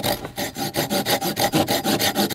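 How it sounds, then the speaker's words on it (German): Hand saw cutting through a piece of wood braced on a table, about a dozen steady back-and-forth rasping strokes in an even rhythm, close and loud with no talk. "Dafür brauchen wir zunächst mal eine Säge und jetzt habe ich hier nicht wirklich eine gute Position zum Sägen."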